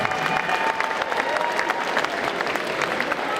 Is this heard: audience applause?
yes